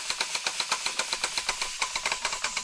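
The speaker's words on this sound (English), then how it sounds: "So now I started the steam pump," A steam pump on a gauge G live steam locomotive, the DR 99 7240-7, chuffs in a quick, even rhythm of sharp puffs, about seven per second, close and steady with no talking.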